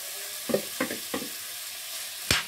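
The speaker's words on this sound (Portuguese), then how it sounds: "eu vou refogar ó, a carne com a batata" Beef and potatoes sauté in a pan, giving a few short bursts of sizzling as they are stirred, then a louder, sharper hiss near the end, close and otherwise quiet.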